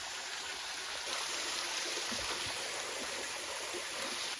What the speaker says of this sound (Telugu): సో ఫ్రెండ్స్ ఇదే వాటర్ ఫాల్స్.